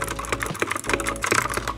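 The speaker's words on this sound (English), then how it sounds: "And then my choice of keyboard is this Anpro 2. So this is the blue switcher." Clicky mechanical keys with blue switches on an Anpro 2 keyboard are typed at a steady pace, each press a crisp, sharp click, close and moderately loud.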